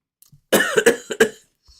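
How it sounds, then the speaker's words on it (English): A run of four harsh, close coughs in quick succession from someone recovering from COVID, with a faint throat noise just before and a tiny sound after. "still got a bit of a cough"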